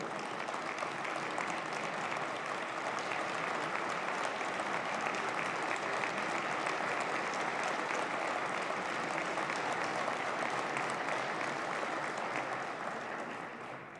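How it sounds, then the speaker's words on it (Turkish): Sustained applause fills a parliamentary chamber, a dense, steady roar of many hands clapping that holds evenly for the whole stretch before tapering slightly at the end, with no speech over it. "Sizden onlar için bir alkış istiyorum."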